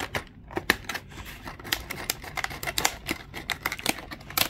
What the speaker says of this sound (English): Working the scissors. It's really thick.